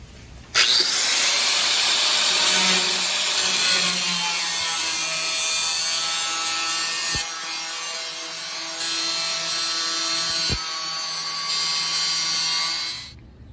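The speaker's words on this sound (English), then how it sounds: "I'm going to use the cutoff wheel to do that one just in case" A cutoff wheel slices through sheet metal for a rusted window channel repair panel, giving a loud, steady, high-pitched grinding whine that starts abruptly and holds for about twelve seconds before cutting off, close up with no voices.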